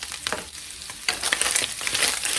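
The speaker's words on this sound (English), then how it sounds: "I'm going to cook this down for a few minutes just until the vegetables are tender" Diced onion and peppers fry in a skillet with a close, crackling sizzle, and a louder burst of spitting and stirring arrives about halfway through.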